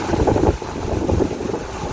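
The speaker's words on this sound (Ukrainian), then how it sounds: "Чуєте, який величезний просто вітер сьогодні штормове попередження." Strong storm wind buffets the microphone in heavy, rumbling gusts that surge and ease over a couple of seconds, during autumn perch fishing.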